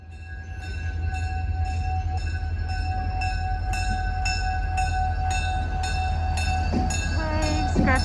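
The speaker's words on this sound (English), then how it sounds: "Can you hear that train far away?" A train sounds near railway tracks and a turntable. A continuous heavy low rumble runs the whole time under a sustained tonal horn or whistle, growing slightly louder toward the end.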